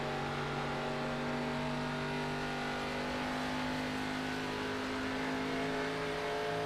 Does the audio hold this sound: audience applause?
no